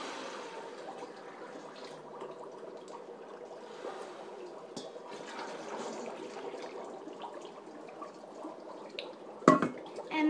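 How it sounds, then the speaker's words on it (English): Warm water is poured to fill a big bowl for a dry ice science experiment, giving a continuous soft splashing and trickling sound close by, ending in a sharper clunk. "And then the bowl with warm water, you're going to fill up the big bowl."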